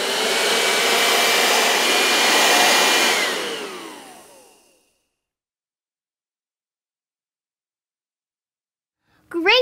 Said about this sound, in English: Can you make a noise like a vacuum cleaner?